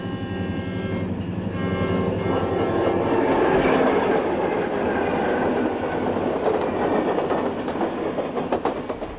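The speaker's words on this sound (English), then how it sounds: "you'll experience fantastic images of Santa Fe passenger trains at various locations on the Pasadena Sub" A Santa Fe passenger train of the early 1950s on the Pasadena Sub rumbling past, with loud continuous wheel clatter and rail noise that builds and then eases slightly, with no voices.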